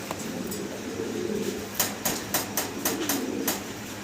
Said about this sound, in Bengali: আবারও কবুতর দেখাচ্ছি